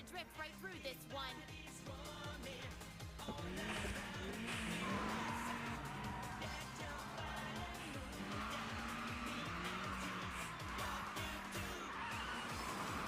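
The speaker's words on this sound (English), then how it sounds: "You're gonna want to drift right through this one." A car drifts through a corner in an Initial D race scene, its engine revving in rising and falling surges while tires squeal at length, with a voice briefly heard at the start.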